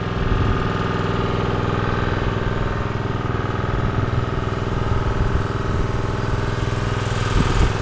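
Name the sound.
engine idling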